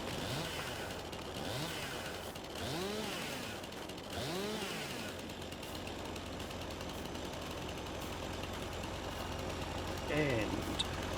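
A harvester's saw cuts down a tree in a forestry simulation game, a buzzing engine rising and falling in repeated revving sweeps over a steady mechanical drone, with a voice talking over it.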